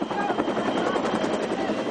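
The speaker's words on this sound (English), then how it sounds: "the sound of the chopper brings a swarming crowd" A helicopter's rotor thumps steadily and loudly overhead in a typhoon-struck disaster zone in Tacloban, a continuous dense throb with no break over two seconds.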